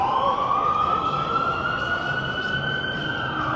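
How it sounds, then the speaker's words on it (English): Several emergency vehicle sirens wail steadily through Toronto's financial district near Union Station, their rising tones sweeping over a constant roar of city traffic, loud and sustained throughout. "Lots of siren action today here in the financial district."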